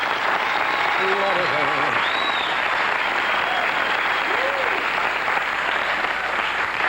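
A studio audience at a 1983 Johnny Carson Show taping claps steadily, a dense, loud wash of applause that holds evenly throughout while a voice speaks over it.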